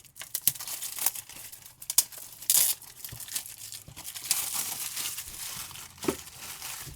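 Plastic wrapping is torn and crinkled off a Blu-ray set, with close, irregular crackling and ripping bursts continuing through the whole stretch.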